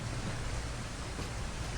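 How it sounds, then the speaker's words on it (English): Steady rain hissing in a video game setting, a dense continuous wash of noise at even loudness with no talking. "It's the rain, Thur."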